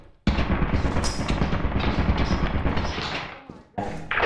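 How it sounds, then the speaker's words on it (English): A machine gun fires in the co-op video game Lethal Company. A loud, sustained rattling burst runs for about three and a half seconds, cuts out briefly, then starts again. "be careful with the, the, the machine gun"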